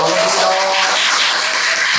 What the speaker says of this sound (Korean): 우리 의장님을 위해서 박수 한번 보내드릴까요?